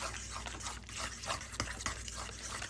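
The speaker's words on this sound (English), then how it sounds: "when I stir it like this" Mashed banana and sugar are stirred in a bowl, making soft, rhythmic, wet scraping sounds, close and quiet, with no one talking.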